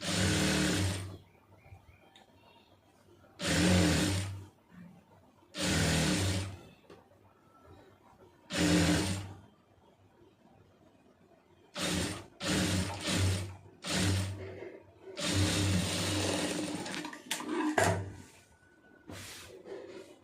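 Sewing machine stitching fabric while sewing lining and main pieces of a garment, running in repeated loud bursts of about a second each with short pauses between, then several quick runs close together near the end.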